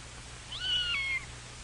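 A single short, high meow from a cat nearby, heard alone against a quiet background.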